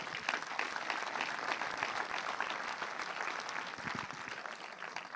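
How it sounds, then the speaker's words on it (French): An audience at the Saint-Jean-de-Luz film festival closing ceremony applauding the mayor, steady quiet clapping from many hands, sustained throughout and heard from a distance. "qu'on peut applaudir s'il vous plaît"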